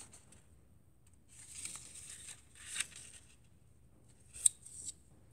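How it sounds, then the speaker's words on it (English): Scissors snipping through paper along dotted lines for a pinwheel craft, a few short close crisp cutting bursts separated by quiet pauses, ending in one sharp snip. "First, cut exactly on the dotted lines, like this."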